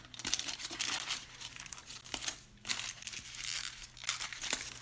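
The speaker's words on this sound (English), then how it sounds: "we're going to take that foil and we're going to wrap that nail." Aluminium foil crinkles steadily as it is wrapped around a fingernail to soak off gel polish, close and continuous rustling with no one talking.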